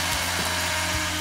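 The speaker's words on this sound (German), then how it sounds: "Die richtige Stelle finden. Und mit dem Bohren anfangen." Continuous whirring of a power drill boring into material, loud and close, with a steady grinding hum and slight pulsing.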